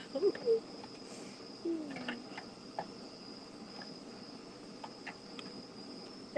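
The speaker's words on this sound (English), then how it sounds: "Do you guys hear the cicadas or crickets out here?" Crickets or cicadas outdoors give a steady, faint high chirping drone that runs throughout, with a few soft scattered noises on top and no talking.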